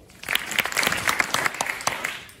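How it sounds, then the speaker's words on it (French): A live audience bursts into applause, dense overlapping claps rising quickly and holding steady for a couple of seconds before tapering off. "Si vous trouvez qu'une action est non violente, alors applaudissez."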